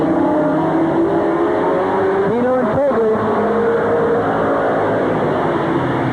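Race cars roar around Midvale Speedway in a 1986 race, a loud continuous engine din with one car's pitch rising and falling as it passes, while a commentator talks over the noise.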